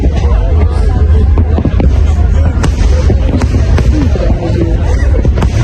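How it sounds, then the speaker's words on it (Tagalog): New Year fireworks display in Sydney, several sharp bangs scattered across a steady wash of crowd babble and wind noise, the bursts sounding somewhat distant and partly masked. "ang kakaibang ganda ng Sydney Fireworks display"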